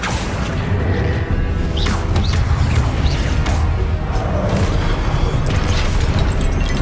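Confringo blasting spells detonate in a Hogwarts Legacy battle, giving dense, continuous booming blasts and whooshes layered over a loud, roaring mix with no pauses.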